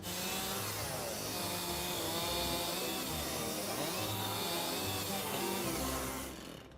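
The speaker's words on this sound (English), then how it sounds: "First job is to clear the bottom of the tree. Chainsaw time." A chainsaw runs steadily and loud for several seconds, its engine droning with a rising and falling pitch as it cuts into wood at the base of a tree, then cuts off.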